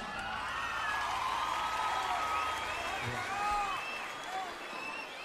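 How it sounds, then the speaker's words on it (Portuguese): Concert audience applause at a live show by a band, dense clapping with cheers and whoops spread across the crowd, steady and moderately loud, with some voices rising above it. "Palmas."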